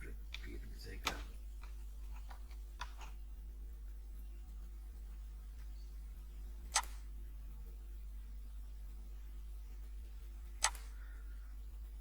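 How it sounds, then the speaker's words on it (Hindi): A computer mouse clicking during Adobe Illustrator pen-tool work: a few sparse, sharp clicks spaced seconds apart over a steady low hum. "माउस की क्लिकिंग सही चल रही है।"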